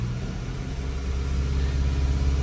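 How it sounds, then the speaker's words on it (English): A Mazda CX-5 engine, which has a low oil pressure problem, revs up to 2000 rpm and holds at a steady, loud, low rumble, continuous throughout with no talking. "So if I rev the car to 2000 rpm"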